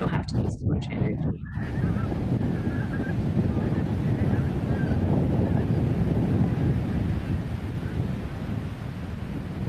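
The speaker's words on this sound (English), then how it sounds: "That's a good amount of geese building up in the distance there." Wild geese honking at Montrose Basin, faint distant calls over strong wind noise, after a brief opening burst of louder sound near the microphone.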